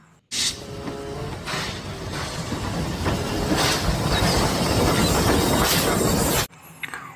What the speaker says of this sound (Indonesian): ini ada kereta api Thomas warna merah